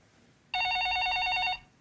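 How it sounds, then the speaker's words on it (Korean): A telephone rings with an incoming call during a Korean stock-market broadcast's viewer call-in segment: a single loud, steady electronic ring burst lasting about a second, standing alone against a quiet background. "전화 걸려왔습니다."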